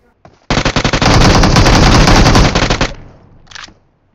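Gunfire in a video game, heard as a loud, close burst of rapid automatic shots that rattle without pause for about two seconds, then taper into scattered echoing shots, followed by a brief faint crack.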